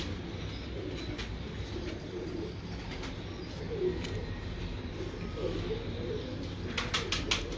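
Sialkoti pigeons coo softly among a steady background hum, with soft rustling and brief fluttery bursts, while the birds stay fairly close and quiet.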